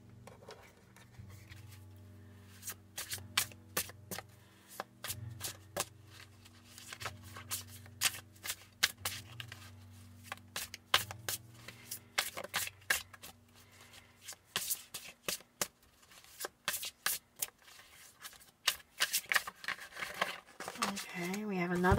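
Tarot cards being shuffled, with repeated crisp riffling and slapping bursts that grow denser and louder, under a softly talking voice and a low background hum.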